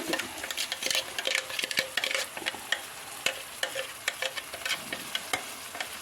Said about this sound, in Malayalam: അത് ഇളക്കിയിട്ട് എണ്ണ തെളിയണ വരെ